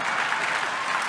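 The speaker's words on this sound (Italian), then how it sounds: "applaude anche Samuele Ciambriello che è qui accanto a me." Applause in a television studio: a short, steady patter of many hands clapping together, moderately loud and even, with no voices over it.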